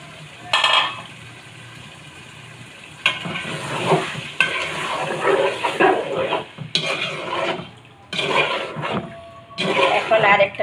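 Milk poured over soaked meat in a pot for biryani brings bursts of loud sizzling and stirring, surging and fading in waves up close, with brief talk mixed in.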